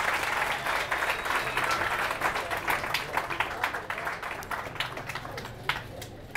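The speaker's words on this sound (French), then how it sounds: "Applaudissez pour ça." Applause from a parish audience at a Bible quiz game, a steady dense wash of many hands clapping that keeps going throughout and thins slightly toward the end.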